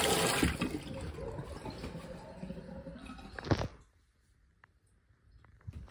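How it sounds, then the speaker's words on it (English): A toilet flushes in a home bathroom, a loud close rush of water for a few seconds that cuts off sharply, leaving quiet with faint drips and small clicks afterward. "This is a toilet."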